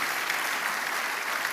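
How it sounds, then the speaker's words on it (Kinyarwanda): A congregation at a church gathering applauds a bishop, a dense, loud, continuous clapping with no voices standing out. "tumukomera amashyi menshi cyane"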